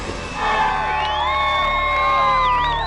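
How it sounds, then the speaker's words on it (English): Crowd celebrating outside a prison after Ted Bundy's execution, loud cheering and whooping with several sustained horn tones rising and bending over the noise. "Cheering, blowing of horns, celebration."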